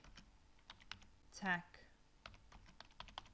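Light typing on a computer keyboard while entering text in Photoshop: soft, scattered key clicks in short bursts, close and quiet, with a brief low voice murmur in the middle.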